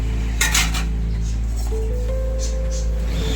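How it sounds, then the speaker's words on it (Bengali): Vegetables for a shukto are stirred in a pot, and a lid is set on it. A few close, light metallic clinks and scrapes sound over a steady low hum. "আবারও একটু নাড়াচাড়া করে একটু ঢাকা দিয়ে দেব"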